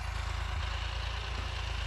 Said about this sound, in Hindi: सामने चल रही है हमारी ट्रैक्टर